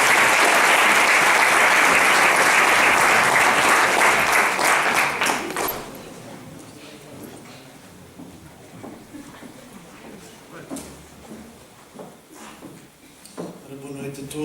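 Loud audience applause at a school Holocaust remembrance concert fills the first few seconds, then fades away and leaves a quiet hall with scattered voices and a few soft knocks.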